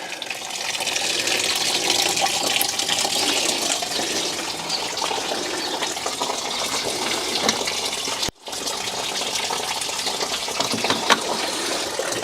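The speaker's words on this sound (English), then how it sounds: "there should be a drain plug on the bottom of the radiator just there. And there is the coolant draining away" Coolant drains from a car radiator's bottom drain plug in a steady, continuous splashing flow, with a brief break partway through.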